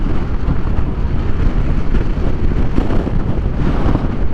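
Strong wind buffets the microphone with a loud, rumbling, gusty roar that never lets up, while crossing the River Neb.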